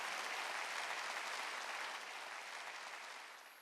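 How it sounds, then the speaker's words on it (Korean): A church congregation at a sermon breaks into steady broadband applause, many hands clapping together in a dense wash that holds level and then gradually fades toward the end, with no talk. "박수치라 이게야"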